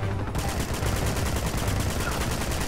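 Dense, sustained gunfire rattles nonstop in the Uncharted video game, with rapid overlapping shots blending into a loud, continuous barrage and no speech.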